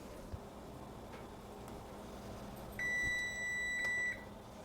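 A kitchen timer gives one steady electronic beep lasting about a second and a half in a quiet kitchen, clear and fairly close.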